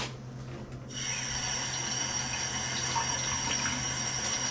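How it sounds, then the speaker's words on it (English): Tap water runs steadily into a sink while a speckled trout fillet is rinsed, a smooth continuous hiss that swells up after a brief quiet opening and stays close and even. "Now I just rinse the fillet."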